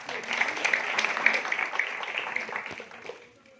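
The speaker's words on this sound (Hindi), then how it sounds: "ताली बजाइए बेटा जी" A church healing-meeting congregation claps together, a dense burst of applause that swells, holds, then tapers off over a few seconds.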